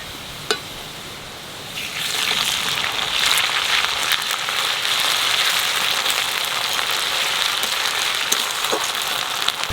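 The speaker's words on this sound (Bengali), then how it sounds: "আদাটা একটু বাজে নিলাম" Ginger paste fries with onions in a pan while cooking an egg curry with potatoes, a steady soft sizzle starting after a brief quiet moment and continuing evenly, with no talking.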